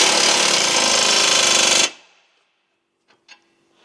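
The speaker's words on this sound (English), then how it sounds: "use the impact driver to go ahead and drive this bolt in" Impact driver driving a bolt into Toyota Land Cruiser 100 Series suspension, a loud continuous hammering burst of about two seconds that stops abruptly, followed by quiet with a couple of faint clicks.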